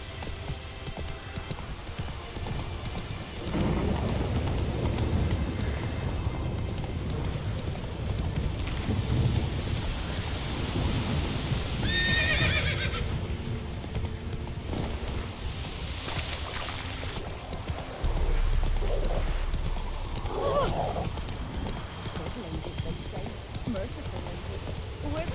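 Horse hooves clip-clopping at a gallop in The Witcher 3, a steady rhythmic beat over rain and low rumbling ambience, with a brief whinny midway and a voice speaking.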